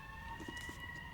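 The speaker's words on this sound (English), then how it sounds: "Sorry for the sirens in the background." Faint, distant sirens wail steadily behind quiet background noise.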